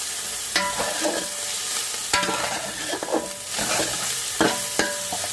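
Ginger and garlic fry in hot oil with coriander and mint for a restaurant-style chicken mandi biryani, giving a steady loud sizzle broken by scraping stirs and clanks of a spoon against the pan.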